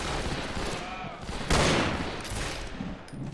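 Rapid Yellow Boy rifle gunfire in the Fistful of Frags multiplayer shooter, with shots crackling through a dense, noisy game mix and one sharper, louder burst midway.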